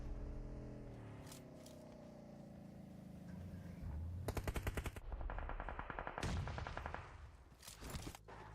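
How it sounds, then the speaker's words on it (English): Rapid bursts of automatic gunfire in a PUBG Mobile esports match at PMPL Arabia, close and loud, with dense volleys crackling over a steady game backdrop before trailing into scattered shots. "R8 with a little bit of a barrage down onto the GEEKAY side."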